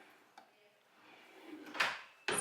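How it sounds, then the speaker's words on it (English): A vanity drawer in a Hilton Grand Vacations hotel room on Maui slides open or shut, a soft scraping rush ending in a sharp knock, preceded by quieter handling sounds, close by. "And then there's also another drawer here too."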